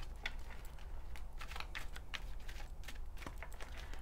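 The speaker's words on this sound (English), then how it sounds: "but I still like to give the cards a little shuffle." Tarot cards shuffled close by by hand, a quiet, steady run of soft papery clicks and riffles for about four seconds with no talking.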